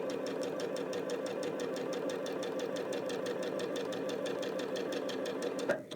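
A sewing machine chain-pieces quilt blocks with a close, steady, rapid stitching rhythm that holds evenly before stopping with a brief clunk at the end.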